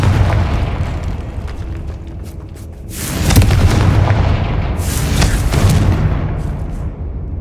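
Confringo spell explosions in Hogwarts Legacy, loud booming blasts with crackling debris, one big surge around the middle followed by another, rumbling up close amid game noise.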